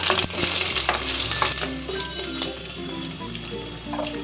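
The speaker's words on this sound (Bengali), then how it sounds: "এটাকে একটু ভালো করে নেড়ে নেব।" Chopped garlic and ginger sizzle in a hot pan while being stirred, with a close, steady frying hiss and scraping strokes of the spoon over it, and no talking.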